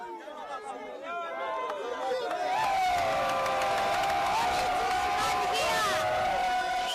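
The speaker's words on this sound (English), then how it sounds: "The miners were cheering because word had gone round we'd come to help end their plight." A large crowd of miners in DR Congo cheers and shouts excitedly, with whoops and overlapping voices swelling into a loud, sustained roar after a couple of seconds.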